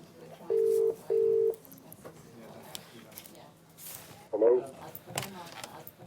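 Two short, steady telephone dialing tones sound one after another at a hospital as a call is placed to a patient, followed by faint rustling and a brief chirpy burst.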